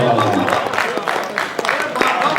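Audience applause at an Urdu poetry recital (mushaira), a dense, steady wash of clapping that carries evenly throughout with a few sharper claps standing out.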